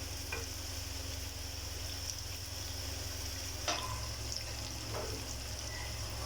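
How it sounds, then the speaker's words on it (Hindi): Onions and potatoes fry softly in a pan for a Mumbai-style spicy potato dish, a faint continuous sizzle with a few light clicks of stirring over a low steady hum. "प्याज आलू माशाल्लाह ज़बरदस्त फ्राई है इसमें"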